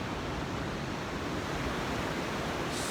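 Steady broadband wash of sea water surging in around Seal Rock, a continuous close roar of surf with no talking.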